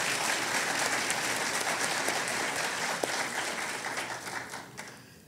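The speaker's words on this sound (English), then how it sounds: "So that deserves a round of applause." Steady applause from an audience at an English-language teaching talk, a dense wash of clapping that gradually thins and fades toward the end.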